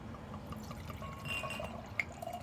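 Beer pours into a glass from a bottle sealed with a dried-out cork, a soft, close, quiet trickle of liquid lasting a couple of seconds, with a faint clink near the end.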